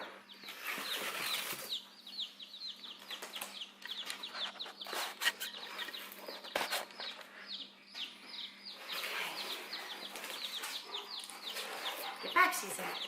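Four baby chicks peep constantly and shrilly inside a shipping box, close by, with rustling and scratching as the box is handled and occasional bursts of louder cheeping.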